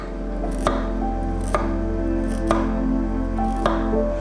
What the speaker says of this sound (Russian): нарезаем ее небольшими кусками.